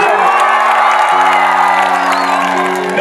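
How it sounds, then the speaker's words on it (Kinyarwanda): A church gathering crowd ululating and applauding loudly, with sustained high-pitched trilling cries over dense cheering and clapping. The noise stays close and continuous throughout. "Ababinyemera nimuvuze impundu mukoma amashyi menshi cyane."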